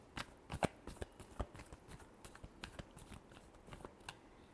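Tarot cards are shuffled close up in a quick run of crisp riffling snaps and soft slides, several sharp flicks standing out, quiet and alone without talk.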